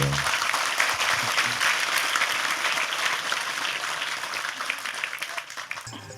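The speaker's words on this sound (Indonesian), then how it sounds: "Sekali lagi tepuk tangan lebih keras untuk Tejo" An audience claps steadily for Sujiwo Tejo at a talk with Cak Nun, a dense, even wash of applause lasting the whole clip, loud and continuous with no voices standing out.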